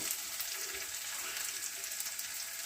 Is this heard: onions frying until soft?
yes